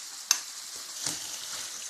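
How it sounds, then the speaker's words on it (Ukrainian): A steady sizzling simmer fills the clip, with a couple of soft scraping stirs through mushrooms stewing in sour cream in a pan. "Перемішуємо гарно і даємо тушитися 10-15 хвилин."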